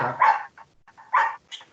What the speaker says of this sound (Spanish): está ladrando